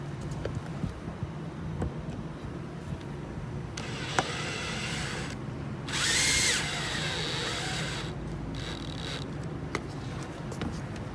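A power drill drives fasteners to fix waterproof washer caps onto a metal panel roof, with loud whirring bursts and a sharp high whine midway over steady outdoor background noise and no speech.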